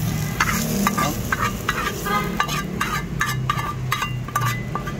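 Marinated pork hits a pan of sautéed aromatics with a steady close sizzle, while a spoon stirs and scrapes in repeated bursts through the whole stretch.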